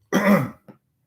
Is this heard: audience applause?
no